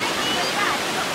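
Hemnagar village waterfall near Alibag, a steady broadband rush of falling water filling the short moment, close and continuous.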